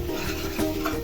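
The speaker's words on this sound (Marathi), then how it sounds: "गरम मसाला टाकायचा अर्धा चमच आणि परतवून घ्यायचा" Garam masala is stirred in oil over a low flame, a short close scrape and rustle of the spoon against the pan with a faint sizzle.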